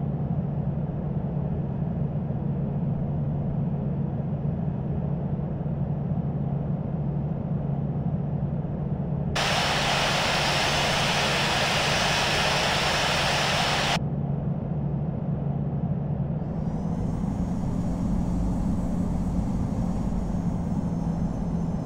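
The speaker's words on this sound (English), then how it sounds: "Nordwind Airlines is taking off runway 10, departing east." Boeing 737 accelerating down the runway for takeoff in the Infinite Flight simulator, a steady loud engine roar with a broad hiss burst in the middle and rising whine near the end, no talking.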